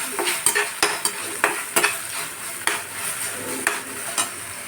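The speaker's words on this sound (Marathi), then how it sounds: "मिक्स करून घ्यायचं। सॉस टाकून घेतली आहे" Hakka noodles being stirred in a pan after sauce has been added, with a run of rhythmic scraping and tossing strokes over a soft, continuous sizzle, close and fairly loud.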